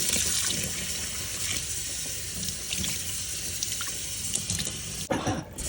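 Cold water runs steadily from a tap into a sink during wet felting of a large bowl, a continuous close broadband rush with faint drips that briefly cuts off near the end.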